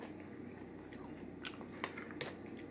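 Someone bites into and chews homegrown zucchini close up, with a few soft crunchy bites and wet chewing over a steady background hum, no talking.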